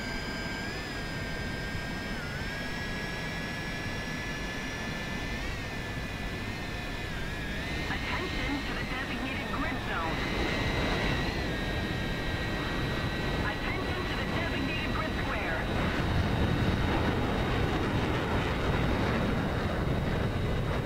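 A MiG-15bis ISh jet in War Thunder roars with a continuous, loud engine drone and a high whine that holds steady, shifting slightly in pitch, over about twenty seconds.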